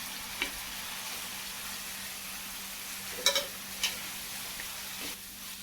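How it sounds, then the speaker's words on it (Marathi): Cooked pasta tipped into a hot pan of masala sauce, giving a steady soft sizzle with a few light clinks and stirring knocks near the end; no one speaks. "आता आपण त्यात हा जो पास्ता कुक करून ठेवलेला आहे तो पास्ता सगळा टाकून घेऊया"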